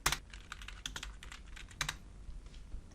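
Close, crisp keystrokes on a computer keyboard as a short command is typed, with irregular clusters of clicks and brief pauses, no voices.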